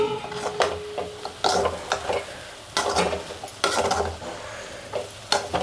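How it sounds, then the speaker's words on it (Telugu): Telugu tempering (tadka) sizzling in hot oil in a pan on the stove while being stirred, with repeated scraping stir strokes over a steady crackling fry at close range. "తాలింపు చూద్దాం ఎంతవరకు వచ్చిందో"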